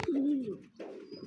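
Pigeons coo softly up close, one long, low, rolling coo followed by a shorter one, with no voices over it.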